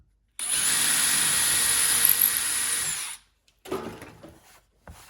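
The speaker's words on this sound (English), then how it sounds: "use a smaller diameter drill to drill through those hole locations into the cork" A power drill whirs loudly and steadily for about three seconds as it bores into cork, then stops, followed by a few brief scraping and handling noises.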